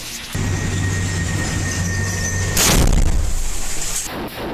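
An IED blast hits Merkava tanks in Rafah. A sudden loud boom bursts out of a steady drone, and a rumbling tail follows.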